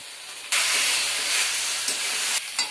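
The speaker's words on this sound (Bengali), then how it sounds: "দেখতে পাচ্ছ কিভাবে কষানো চলছে? এরকম মাংসর মতো কষাতে হবে আলুগুলোকে।" Potatoes sautéing in plenty of oil in a pan, a loud steady sizzle that starts abruptly and hisses for about two seconds before cutting back, no talking.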